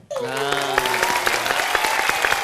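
A studio audience at a Thai folk song competition show breaks into sustained applause, dense clapping that starts abruptly and holds steady, with a sung or held musical tone fading underneath at the start.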